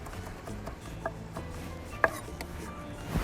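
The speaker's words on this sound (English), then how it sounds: "we take our fresh basil, pluck the leaves. There we go. Give it a little run through with the knife." Fresh basil leaves chopped with a knife on a cutting board, with a few light, scattered cuts and one sharper knock, fairly faint against a low kitchen background.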